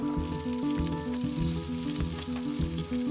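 Ginger and garlic sizzle in a spoonful of hot oil in a heated wok while making Zhuhou-sauce beef brisket, a steady loud frying crackle with stirring clatter and no talk.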